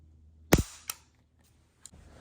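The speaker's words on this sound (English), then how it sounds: "we'll get a nice trigger pull on this" Dry-fire trigger pull on an empty 8mm Mauser bolt-action rifle: one sharp, close metallic snap followed by a smaller click, then quiet and a faint final tick near the end.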